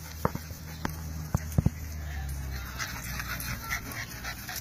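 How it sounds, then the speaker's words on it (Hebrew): A resident dog greeting visiting dogs at home, with several sharp short barks early on, then panting, whimpers and pattering paws nearby, plus faint background voices. "פינצ'י שומר על הטריטוריה, בהתחלה היו נביחות וקצת נשיכות, אבל עכשיו הכל בסדר."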